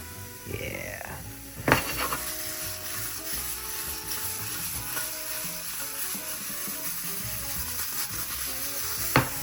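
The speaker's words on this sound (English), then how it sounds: "I'm roasting it just a little bit just to get get some color on it, get some char on it" Food roasting in a pan for a bacon, egg and cheese sandwich, giving a continuous close sizzle with occasional utensil scrapes and clinks.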